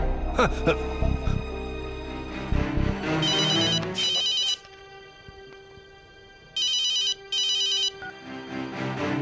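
A telephone rings in two pairs of electronic trills, separated by a pause, loud and close, with a voice and background music heard beforehand.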